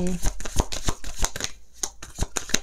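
Oracle cards are shuffled for a tarot-style reading, giving a rapid run of crisp riffling snaps and flicks close up. A voice speaks lightly under the shuffling.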